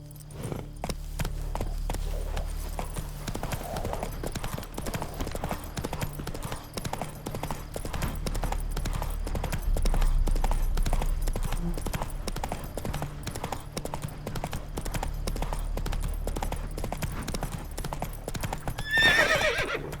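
Roach, a horse in The Witcher 3 video game, gallops in a steady, continuous clip-clop of hooves throughout, with whinnying neighs and a louder flourish near the end.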